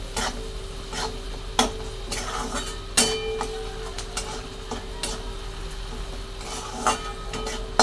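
Mung dal with salt stir-fried in a pan at home, a spatula scraping and tapping in scattered clicks over a steady low hiss and hum, with a few sharper knocks against the metal.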